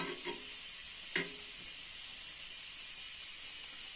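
Bread pizza frying in a pan over a low flame gives a steady, quiet sizzling hiss, with a few soft clicks near the start and no talking.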